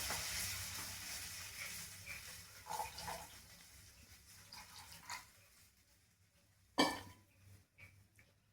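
Milk for Sharad Purnima doodh pauva poured into a pan, a soft, steady liquid rush that fades gradually, followed by a sharp clatter and a few faint stirring sounds.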